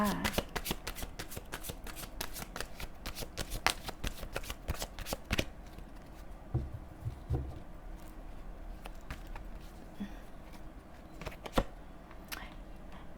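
Tarot cards are shuffled near at hand in a rapid run of crisp riffling slaps, then slower scattered flicks and taps, with someone speaking softly at times underneath.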